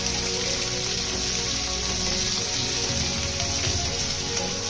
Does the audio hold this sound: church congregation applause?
no